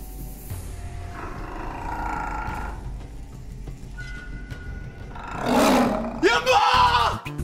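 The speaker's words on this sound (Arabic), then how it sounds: "في صوت أسد ببيتنا" A lion roars inside a family home in a comedy series, the deep roar swelling loud and close in the last few seconds after a quieter stretch of background noise.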